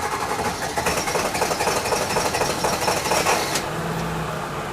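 A cold Ford 7.3 Powerstroke diesel in an E350 van runs at a rough, steady clatter, close and fairly loud. The sound drops slightly near the end.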